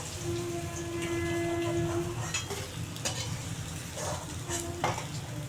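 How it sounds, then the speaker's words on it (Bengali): Pangas fish pieces frying in a pan of oil, with a steady, close sizzle running throughout and a few light utensil clinks on top, no voices. "এই দেখো একদম লাল করে ভেজে নিয়েছি আরও দু পিস ভালো করে লাল করে ভেজে নেবো"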